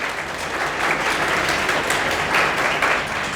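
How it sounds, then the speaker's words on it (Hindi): A dense, steady wash of audience applause at a student success event, many hands clapping together without pause at an even, fairly loud level. "तालियां बजाते रहिए"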